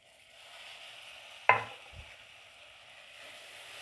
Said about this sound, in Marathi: आता आपण याच्यामध्ये टाकून घेऊ आपण भिजवलेली डाळ